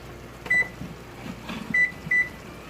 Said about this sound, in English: We're gonna set a 10-minute timer